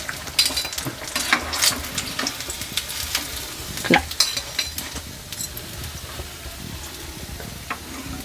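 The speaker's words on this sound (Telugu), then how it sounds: "డీప్ ఫ్రై చూడండి" Egg slice bajji deep fries in hot oil with a crackling sizzle, broken by sharp clinks and scrapes of a metal utensil stirring and lifting pieces, loud and close in the first half, then settling into a steadier bubbling.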